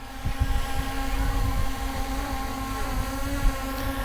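A Yuneec Mantis Q drone landing in wind, its steady propeller whine humming close and continuous under gusty microphone wind noise.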